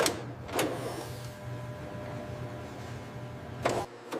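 A tensile-testing machine pulls giraffe-style leather apart with a steady motorized whir, bracketed by short mechanical clunks at the start and end.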